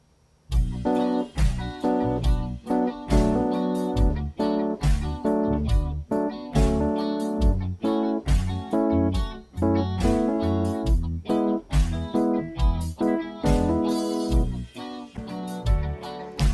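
Funky keyboard chords played in punchy repeated stabs, each chord four times with a quick passing note on the fourth, steady groove with no voices.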